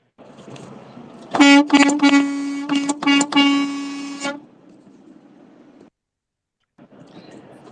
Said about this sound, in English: Honk that horn one more time.